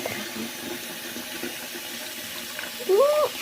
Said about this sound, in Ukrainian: Ну і от зараз будемо набирати воду. Ну, ви Зараз отак от вода набирається.